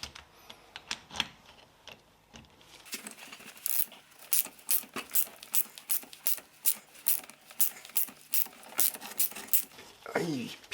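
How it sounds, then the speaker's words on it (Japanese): Ratcheting tool turning out the rear brake caliper piston on a Mazda RX-7 FD3S, a close series of sharp, evenly spaced ratchet clicks, quiet at first, then steady and regular. "リアブレーキはこういう工具使ってピストン外します。"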